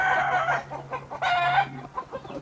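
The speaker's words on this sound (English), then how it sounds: "Look at the chickens in the trees." Several close clucks and squawks from chickens in trees in Puerto Rico, rising in loud bursts then fading to softer chatter over a faint hum.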